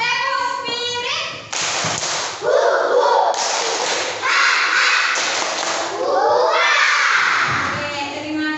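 A school class in Indonesia claps and chants a teacher-led 'tepuk spirit' routine together. Rhythmic bursts of hand claps mix with loud, shouted children's voices in close, lively unison for several seconds.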